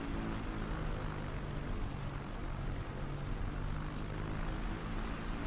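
Carbon Cub X Cub propeller plane in Microsoft Flight Simulator, a steady loud engine and propeller drone filling the entire stretch with no talking.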